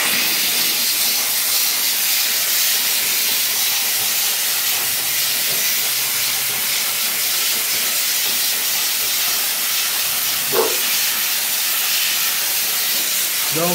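A Kärcher SC4 Premium steam cleaner fitted with a small nozzle blasts limescale off a cat litter tray, giving a loud, steady hiss of spraying steam that runs unbroken throughout, with a brief clack near the end.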